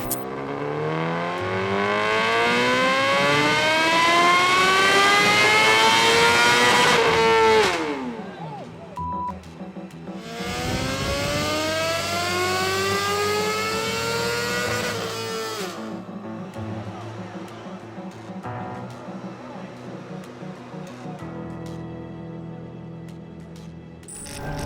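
A motorcycle running on a dyno, its engine revving hard in long rising sweeps that climb in pitch, cut off, then climb again, loud and close.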